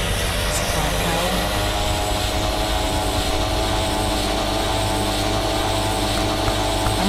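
A TBM 850 turboprop's engine and propeller at full power during a go-around after touching the runway, a loud, constant roar heard from inside the cabin, with faint voices underneath.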